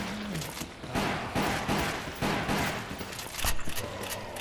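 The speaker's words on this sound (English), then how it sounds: "Reload the shotgun." Shotgun blasts in the light-gun game Resident Evil: The Umbrella Chronicles, heavy booming shots repeating roughly every half second over dense, noisy game action, with a stronger cluster of hits near the end.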